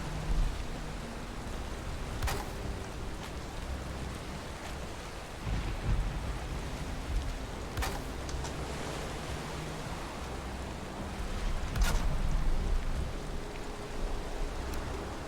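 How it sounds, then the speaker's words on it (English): Steady video game rain hisses throughout, with several loud thunder cracks spaced a few seconds apart, in an online game where a player is building a shipyard to protect a boat. "here we go with the rain again."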